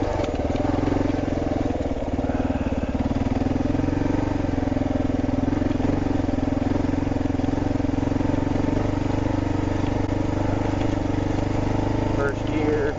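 A Kawasaki KLR650 motorcycle rolls slowly in first gear along a flat ATV trail at Tahuya, its single-cylinder engine a loud, steady low rumble close to the rider, with some rattle of the bike and no break in the drone.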